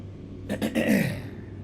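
A short throat clearing with a couple of rough, coughing bursts, close and fairly loud, over a steady low hum.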